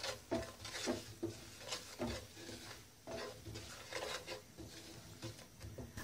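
Amchur, garam masala and coriander powder being fried in a pan, with a soft sizzle under repeated scraping and stirring strokes of a spoon against the pan, fairly quiet and close.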